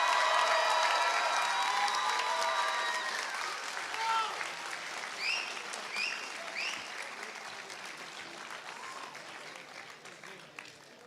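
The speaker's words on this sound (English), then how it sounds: "One more time, a round of applause for the class of 2024!" Graduation ceremony audience applauding the class of 2024 at an American academy in Qatar, sustained clapping from a large crowd that gradually fades, with a few whistles and cheers.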